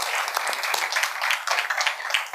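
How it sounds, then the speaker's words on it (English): Audience at an evening entrepreneurship talk applauding the speakers, a dense even round of clapping that holds steady for a couple of seconds. "So please, big round of applause for all the speakers this evening."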